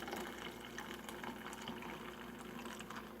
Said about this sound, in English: very carefully now, I'm going to pour